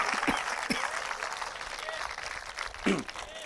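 A school audience at a Rainbow CBSE School event applauds, a broad, steady wash of clapping with a few voices mixed in that continues for several seconds at moderate volume.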